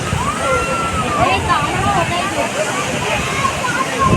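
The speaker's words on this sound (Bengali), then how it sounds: "ঢেউ আরো বেড়ে যায়, দূরে কাছে চলে এসছে গো" Waves roll in steadily on the beach at Mandarmani, a continuous broad roar of surf with chattering voices and shrill whistle-like calls over it.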